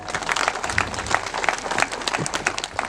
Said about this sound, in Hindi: सबों के नाम पर हम एक बार जोरदार ताली बजा देंगे।